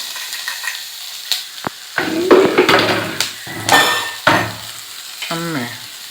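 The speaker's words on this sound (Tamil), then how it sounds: "இப்போ நம்ம இந்த கேரட்டையும் குடமிளகாயும் சேர்த்துக்குவோம்" Onion, carrot and capsicum stir-fried in a pan, with scraping strokes of a utensil and bursts of sizzling that come and go in an uneven rhythm, loud and close, with no voices.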